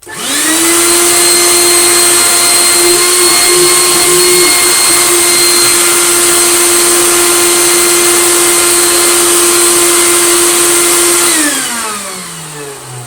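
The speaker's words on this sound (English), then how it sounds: "Well, it's blowing out crap everywhere it goes. There is no suction thanks to that hole." A Goblin AquaVac 620 vacuum cleaner with a hole that kills its suction runs at a loud, steady motor drone with a strong whine, then spins down with a falling pitch near the end.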